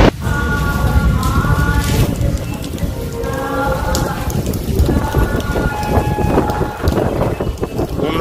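Heavy rain pours steadily with a dense hiss during a thunderstorm, while deep rumbles of thunder roll underneath throughout.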